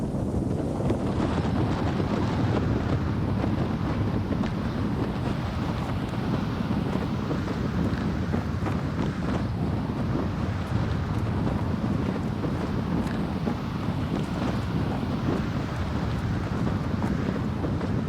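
Strong storm wind at about 60 km/h buffets outdoors in polar conditions, a loud, constant roar with heavy gusting rumble battering the microphone throughout, no voices.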